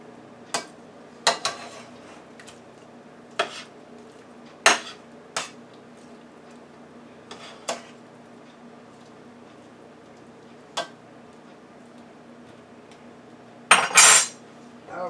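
Balsamic garlic chicken and mushrooms being flipped in an air fryer basket, heard as sparse metallic clinks and scrapes of utensils against the basket, with a sharper cluster of clatter near the end over a faint hum.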